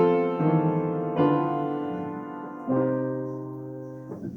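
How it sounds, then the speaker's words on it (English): A sustained four-voice chord with the leading-tone seventh chord in first inversion and a doubled third, played as part of a chord progression; clear sustained tones move through several chord changes at steady intervals, alone without talk. "you're going to end up with a chord 7, leading tone in first inversion with doubled third"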